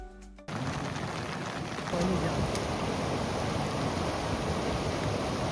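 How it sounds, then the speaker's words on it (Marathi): Heavy monsoon rain in Rahata taluka, Maharashtra, drums in a continuous dense hiss that starts abruptly and stays steady, close and fairly loud throughout. "बारा तासापासून राहता तालुक्यात मुसळधार पाऊस या ठिकाणी सुरू आहे"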